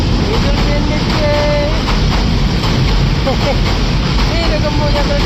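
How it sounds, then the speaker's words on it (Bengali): A train approaches with a loud, steady broadband roar, and short tonal toots rise briefly above it. Voices chatter close by throughout. "এই যে বাবা ট্রেন আসতেছে"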